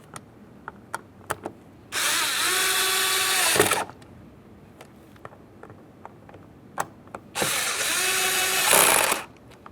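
A power tool drives door pull handle screws on a 1994-2001 Dodge Ram 1500 interior, two loud whirring bursts of about two seconds each separated by a pause, with small clicks and knocks in between.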